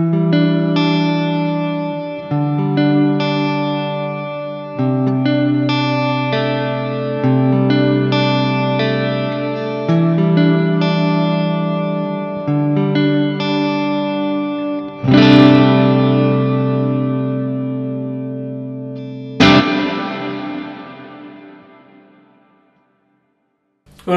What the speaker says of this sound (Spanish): se escucha como si fuese un lugar muy grande, pero al mismo tiempo escuchas las repeticiones del eco